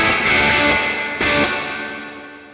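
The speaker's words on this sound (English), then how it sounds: "There's a room reverb." Distorted electric guitar through a Boss Katana MkII amp with room reverb, two strummed chords ringing out loud and close, each tail decaying into a short, roomy wash with no voices.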